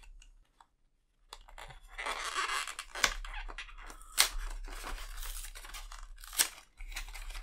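A plastic blister pack of Panini FIFA Women's World Cup 2023 stickers is pulled and torn open, giving crisp crinkling and tearing with sharp snaps after a short quiet start, close and fairly loud.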